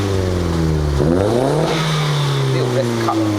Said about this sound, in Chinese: 帮我踩一下油门。